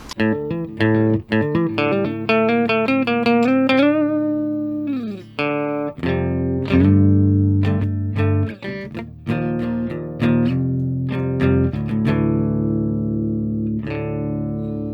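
An electric guitar with a clean tone plays a sequence of plucked notes and ringing chords, clear and sustained, with no voices.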